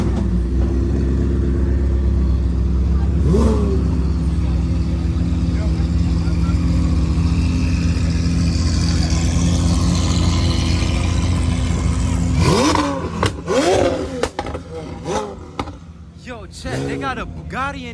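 A 1200 hp Lamborghini SVJ roars at a large car meet, a loud sustained engine drone that rises into sharp revving bursts near the end, with crowd voices and shouts mixed in.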